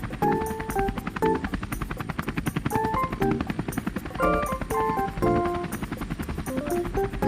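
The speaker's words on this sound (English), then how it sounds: "Helicopter," A helicopter's rapid, rhythmic rotor chop thumps steadily throughout, fairly loud and close, with a melodic music bed playing over it.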